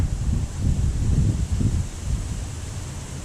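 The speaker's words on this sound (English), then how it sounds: "This wind's kind of gnarly." Strong gusty wind blows across a local pond, a low rumbling buffet with surging gusts, loud and close, with no other sounds standing out.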